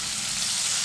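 Potato dropped into hot oil for a Maharashtrian mixed vegetable bhaji, giving a loud, dense, continuous sizzle close up with no voices.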